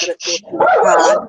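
A dog barks and whimpers in short, loud yips up close, with a voice speaking over the barking.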